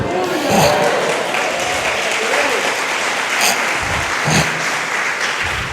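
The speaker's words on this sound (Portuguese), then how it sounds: "Vou dar mais uma chance para vocês de gritar, de aplaudir" A church congregation shouts and applauds loudly in a packed room, the clapping and cheering swelling in waves, with voices rising within the crowd.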